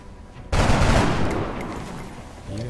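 Gunfire in the XCOM strategy game: after a brief quiet moment, a loud, dense burst of rapid shots rings out, then trails off into a decaying rumble.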